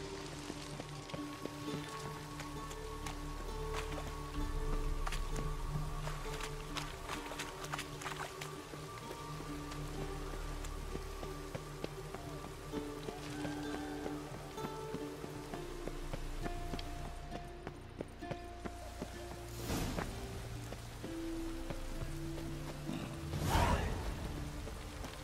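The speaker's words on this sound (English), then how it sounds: "I think that's actually raining through the ceiling" In The Witcher 3, rain comes down through a ceiling indoors, a faint steady patter with scattered drips under a low ambient game hum.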